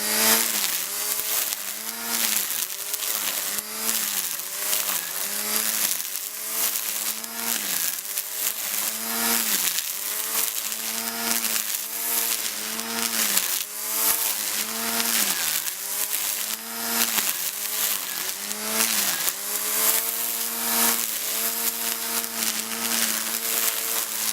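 Makita XUX01 brushless 36V string trimmer cutting grass, a loud buzzing motor whine rising and falling in repeated sweeps, continuous and close, with no talking.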